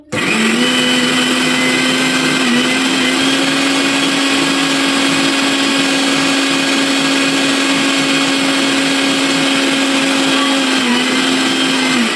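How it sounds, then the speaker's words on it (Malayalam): An electric blender runs continuously on a sauce with a splash of vinegar, a loud steady motor whine with a constant pitch that dips briefly near the start and end, close and alone for about twelve seconds. "നമുക്കിത് ബ്ലെൻഡ് ചെയ്യാം"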